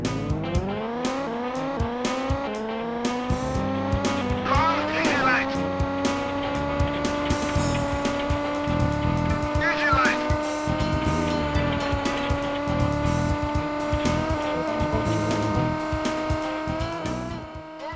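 A car racing in the video game Rally Day Europe, with a revving engine climbing in pitch then holding a steady high drone, tires squealing occasionally, and a voice talking over it throughout.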